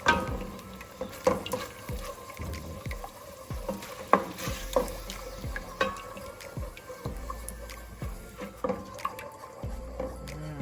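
Vegetarian green Thai curry with coconut milk simmering in a pan while it is stirred, with scraping and knocking strokes over a soft steady sizzle and bubbling, close and moderately loud, no voices.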